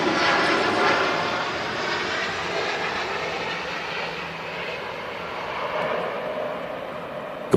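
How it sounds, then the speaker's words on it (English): A Gulf Air Boeing Dreamliner jet rolls down the runway on takeoff at an airport, a continuous broad engine roar that holds steady and fills the scene without speech. "Gulf Dreamliner using a lot of runway there."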